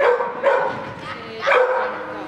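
Dogs give two bursts of short, high yips and barks close by during training, with a pause between them and faint background noise.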